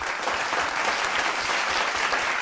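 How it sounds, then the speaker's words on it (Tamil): An audience at a tribute gathering for Mother Teresa claps in a dense, steady round of applause that fills the room from start to finish. "உலகத்தில் இருக்கக்கூடிய தெரசா அம்மாவுக்கு கேட்குற மாதிரி ஒரு கைத்தட்டு கொடு"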